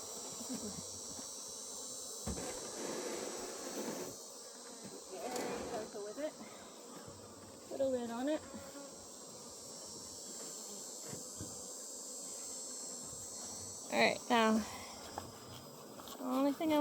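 Bees buzz around an open beehive, a faint, steady hum with occasional louder buzzes passing close by, while a person talks quietly over it at times.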